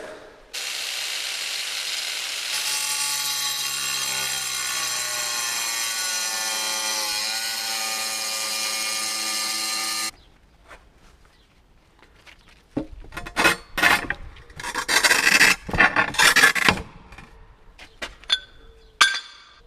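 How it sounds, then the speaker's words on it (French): An angle grinder cuts a 60 x 60 floor tile with a loud, steady whine that shifts in pitch for about ten seconds. After a pause, a series of rough, gritty grinding bursts follows. "on va couper cette partie à la meuleuse"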